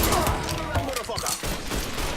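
Gunfire in the video game Mafia III: dense, continuous bursts of rapid shots and impacts filling the whole stretch, loud and close, with shouting voices mixed in.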